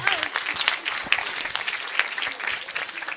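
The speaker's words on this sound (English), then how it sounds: "Give her a big clap, man." A crowd of listeners at a talk on the right to education breaks into applause, a dense steady wash of many hands clapping with a whoop and shouts over it.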